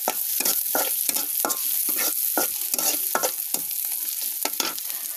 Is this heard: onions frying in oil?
yes